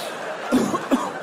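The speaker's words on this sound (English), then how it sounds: "Just coughing." A comedian on stage gives two short, close coughs about half a second apart.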